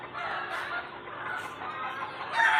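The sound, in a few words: pet chickens clucking and crowing on a farm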